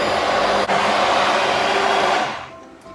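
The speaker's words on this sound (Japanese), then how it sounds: "これでもうミキサーしていきますのでね" An electric blender whirs loudly and steadily while mixing food with a nutritious broth. After a couple of seconds it winds down and spins to a stop.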